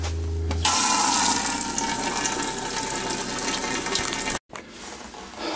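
Water gushing and draining from a MerCruiser MAG 350 Bravo 3 boat engine during winterizing, a loud, steady rushing flow that cuts out briefly near the end before resuming.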